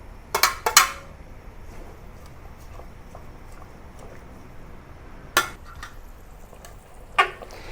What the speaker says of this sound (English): now I add the watercress